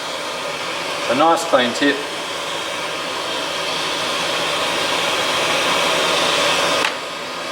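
Soldering fume extractor fan running steadily at close range, a broad even whoosh that holds for about six seconds before cutting off, with a brief spoken remark near the start.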